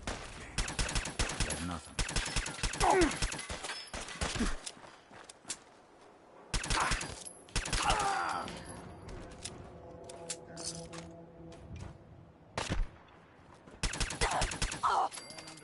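Gunfire in Fallout 4 comes in loud rapid bursts of automatic fire, separated by quieter gaps, with a character briefly speaking between the volleys.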